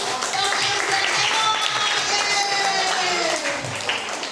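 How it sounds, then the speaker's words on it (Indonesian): Applause from a children's church gathering, a busy, continuous patter of clapping hands heard up close and fairly loud, with a few excited voices mixed into the crowd noise. "Tepuk tangan buat Yeser dan"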